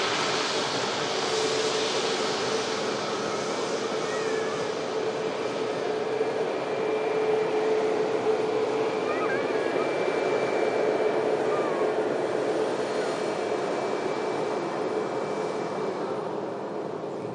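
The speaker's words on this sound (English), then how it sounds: "Tap. Return flight to Lisbon. E195 Tango Yankee on this aircraft." A TAP Embraer E195 jet departs on its return flight to Lisbon, a continuous, fairly distant engine roar with a steady whine, holding level and easing slightly toward the end.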